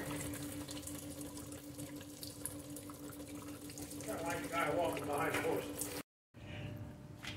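Transmission fluid runs and drips from a loosened torque converter clutch solenoid on a 2011 Subaru Outback, a soft trickle that grows more splashy midway under a steady background hum, with a person talking.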